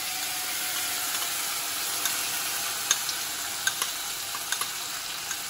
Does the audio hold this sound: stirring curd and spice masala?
yes